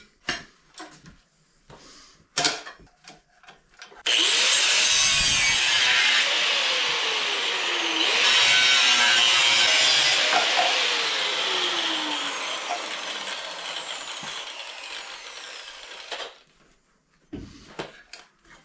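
Reciprocating saw cutting sheet metal for a 1951 Chevy rat rod build, a loud sustained harsh rasping cut lasting about twelve seconds, framed by clanks and handling knocks before and after.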